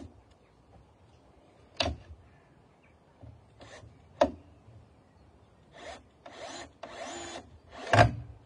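A power driver sinks 2.5-inch decking screws into the timber wall frame of a Japanese tea house, giving several short whirring bursts of varied length with pauses between and no talking.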